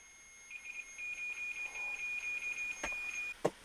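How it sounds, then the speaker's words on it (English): An electronic alarm goes off during a paranormal investigation, giving a faint high-pitched run of rapid beeps that stops after about three seconds, with a couple of sharp clicks near the end. "If you're the one setting our alarm off"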